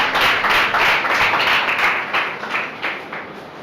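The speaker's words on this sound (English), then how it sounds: "Let's clap for her." A crowd claps and applauds steadily, loud at first and gradually tapering off, with no voices over it.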